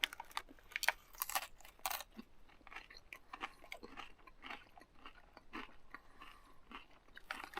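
Crunchy chewing of a Frito pie loaded with Fritos corn chips, eaten outdoors while winter camping: a close, steady run of sharp crisp crunches and bites, repeated irregularly throughout with no talking.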